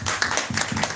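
A church congregation at a Sunday Thanksgiving service claps together, a brief burst of clapping heard close, with a few distinct hand claps standing out over about a second.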